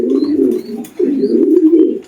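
A racing pigeon coos up close in two loud, throaty, rolling phrases separated by a short pause, with no talk.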